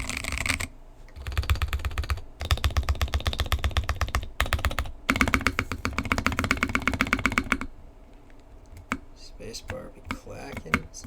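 Close, rapid keystrokes from a KBD Fans D60 keyboard come in dense bursts separated by brief pauses, with spacebar clacks among the typing, before thinning into scattered single taps at the end.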